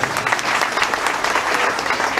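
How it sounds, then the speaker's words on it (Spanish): Loud, steady applause from a gathered crowd at a family house inauguration in a village, brief and dense, with no talk over it. "Fuertes aplausos a la mamá, que es nuestra hermana Luisa."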